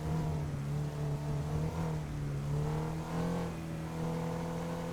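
A car engine in the game GTA drives steadily with a constant hum, revving up and down in gentle swells while it cruises, with no talk over it.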